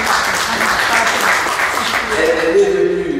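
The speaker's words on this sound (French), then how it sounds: "je vous demande d'applaudir véritablement Nadine Lévy" An audience at an interfaith lunch in Paris applauds loudly, a dense, continuous wash of clapping that lasts throughout, with a voice beginning to speak over it near the end.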